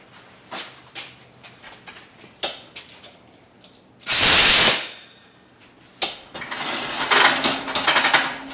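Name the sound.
compressed air filling Foam Pro 12 foam sprayer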